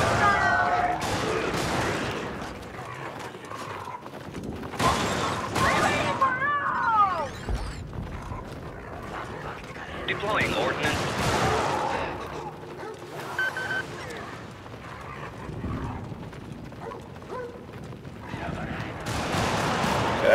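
Gunfire from rounds being shot in a multiplayer war video game, bursts of shots in clusters across the stretch under ongoing talk, with mid-level game noise throughout.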